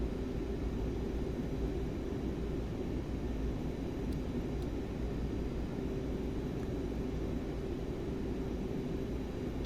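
In Microsoft Flight Simulator 2024, an inibuilds A330-300 begins to taxi. Its engines give a steady, low, broadband rumble with a faint tonal hum, and the level holds even throughout with no speech.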